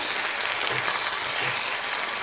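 Tomato and ginger-garlic paste fry in hot oil, giving a steady, close sizzle with soft crackle throughout, no voices.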